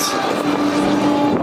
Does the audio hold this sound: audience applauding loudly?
no